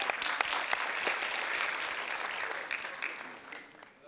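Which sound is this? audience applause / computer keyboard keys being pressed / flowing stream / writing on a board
audience applause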